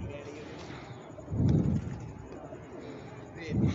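Pigeons coo in low, throaty bursts, two swells close by, with faint talking in the background.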